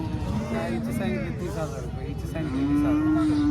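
Cows moo loudly and close by in long, low calls at the Kopargaon cattle market, with a busy hum of people talking and market noise around them.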